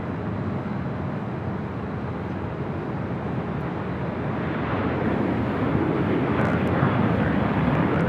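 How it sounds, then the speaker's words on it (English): An Airbus A380 takes off at Los Angeles International Airport (LAX). The jet makes a continuous broadband roar that swells slightly louder toward the end, heard alone without talk. "A380 takes off here."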